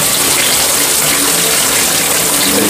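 Tap water gushes in a steady, loud stream while white rice is rinsed for Jamaican rice and peas, a continuous close splashing flow with no pauses.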